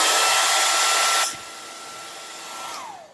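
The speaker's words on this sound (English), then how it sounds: "I've got a blow dryer here." A handheld blow dryer roars loudly at close range, then drops to a lower setting with a steady whir before winding down, with no talk.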